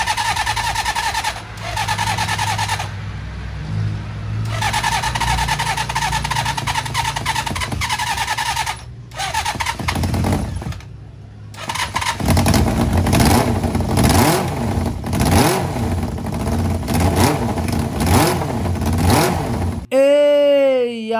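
A big bike motorcycle engine, back on the road after its pulser wiring was swapped, starts up and revs hard again and again. The engine is loud and close, with rising and falling surges and mechanical clatter, and nobody speaks.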